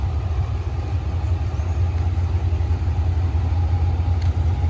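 A train's engine idling at Surat Thani station in Thailand, with train 489 standing at platform 2: a steady, low, even rumble with no other sounds over it.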